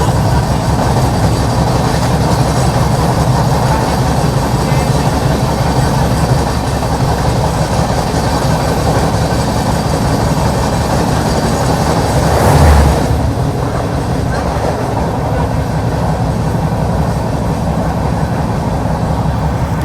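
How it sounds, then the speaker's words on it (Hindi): The Rani Kamlapati New Delhi–Bhopal Shatabdi Express passes near Mathura Junction with a loud, steady rumble of wheels and wagons, continuous throughout with a brief louder surge midway. "मथुरा जंक्शन के डिपार्चर पे हमें मिली रानी कमलापति न्यू दिल्ली भोपाल शताब्दी एक्सप्रेस"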